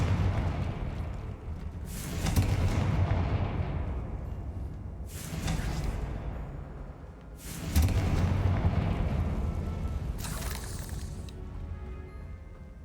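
Confringo fire-spell blasts in the Hogwarts Legacy video game, four heavy booming explosions spaced a few seconds apart, each trailing into a fading rumble, with no talking.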